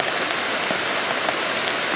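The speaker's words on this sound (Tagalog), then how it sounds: "lakas ng ulan" Heavy rain pouring steadily on a rural path with houses nearby, a dense, loud and even hiss of drops with no voices.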